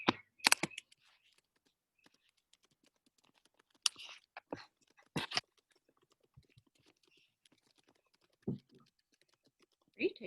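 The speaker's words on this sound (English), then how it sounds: "Are you typing something?" Light clicks on a computer keyboard come in short, sparse bursts, quiet and close, separated by stretches of near silence, with a few louder taps scattered through.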